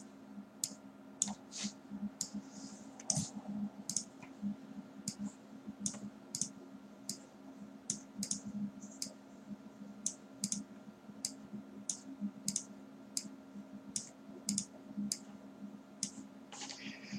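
Quiet, steady computer mouse clicks recur at short, fairly regular intervals during 3D modelling of vertices, over a low background hum with no speech.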